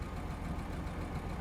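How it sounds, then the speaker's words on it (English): A truck's engine idles in the snowy North Port, Alaska terrain of SnowRunner, a steady low rumble that holds even and close with no break or variation. "I'm gonna start the engine up again."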